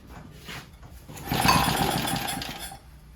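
A vintage Lauson-powered engine jump starter is cranked, first sputtering briefly, then a rapid rattling chug swells for about a second and a half before it dies away, loud and close.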